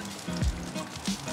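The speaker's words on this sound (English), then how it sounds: "Let's get some oil down on the Blackstone. Heavy amount of oil." A heavy amount of oil hits a hot Blackstone griddle, making a soft, close sizzle with light crackles and a low thud, brief and without talk.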